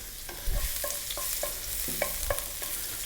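Garlic and ginger sizzle in two tablespoons of hot sesame oil while being stirred, with scraping strokes and short clatters over a steady frying hiss, close and moderately loud with no voices.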